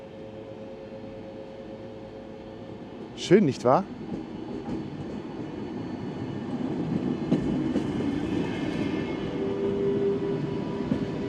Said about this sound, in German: Da kommt unser Zug. Ganz, ganz langsam fährt er in den Bahnhof.